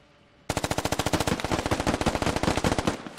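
An M249 machine gun fires in the Squad video game, one long sustained burst of rapid, evenly spaced shots that starts abruptly after a brief quiet moment, loud and close with no talking.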